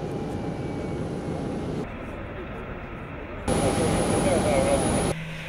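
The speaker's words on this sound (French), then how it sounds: "La nuit tombée, l'avion présidentiel se pose sur le tarmac." At night, the presidential airplane lands on the tarmac: a steady, loud jet engine roar with a high whine that fades and then swells again, heard from fairly close with no voices.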